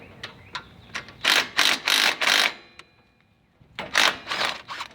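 A ratchet wrench loosening starter bolts on a riding lawn mower, several quick clicking bursts in a row, then a pause and another clicking run, close by and sharp with no talk.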